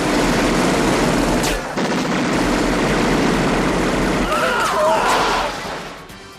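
A Delta Force 2 scene in which DEA agents are shot down carries a dense, loud burst of sustained automatic gunfire over a roaring background that fades toward the end.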